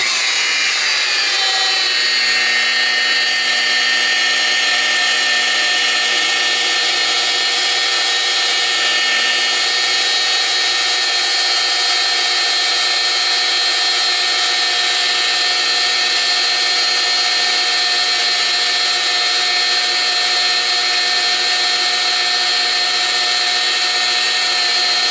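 A polisher spins at 1000 RPM with medium pressure on car paint, spooling up at the start and then holding a steady, continuous high whir and whine throughout.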